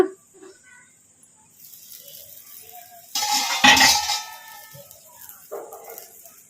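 A plate lid clatters off a pan of green chilli masala fry, followed by a spoon scraping and mixing the chillies against the metal. The sounds come in a few short, clinking bursts with quieter stretches between.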